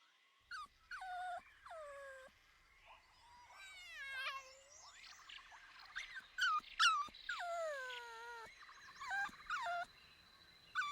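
Wolf pups whimper and whine in high, wavering cries, several overlapping yelps and squeaks coming in bursts, close and fairly clear with no speech.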